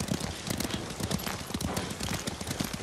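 Horse hooves clip-clop in a quick, continuous walking rhythm in the Ghost of Tsushima video game, close and prominent over a dense ambient background.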